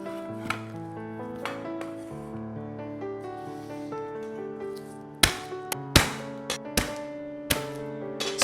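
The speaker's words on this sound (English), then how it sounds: "Smash them up, remove the skin, and give it a rough chop." Garlic, onions and chilies are chopped roughly with a knife on a board, about eight sharp, close thuds in an irregular rhythm that cluster toward the end, over a steady background of sustained music with no talk.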